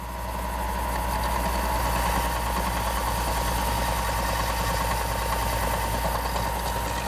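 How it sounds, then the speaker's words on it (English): A power sander works steadily on a hatchet handle, giving a continuous, even motor hum and grinding texture that stays level throughout with no talking. "Just gonna clean it up a little bit on the sander."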